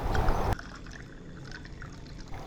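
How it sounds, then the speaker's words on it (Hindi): Chilled water pours in a steady, close trickle after a brief louder splash at the start, with faint clinks of ice as it fills a glass of mango squash. "ठंडा चिल पानी ऐड करेंगे"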